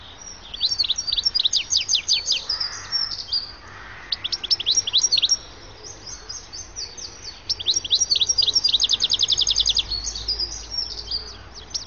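Goldfinches twitter in bright, rapid tinkling calls and a more elaborate song, with bursts of high chirps repeating and overlapping throughout, fairly close and clear over a quiet background.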